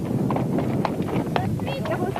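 Horse hooves clip-clop at a desert rally for riders, an uneven patter of steps under steady outdoor noise, with people talking over them.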